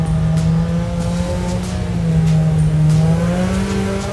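An ATV engine drones loudly at high revs, holding a strained, buzzing pitch that wavers slightly and climbs toward the end, heard up close on a trail.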